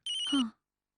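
A telephone gives a single short electronic ring, bright and close, ending abruptly and followed by silence.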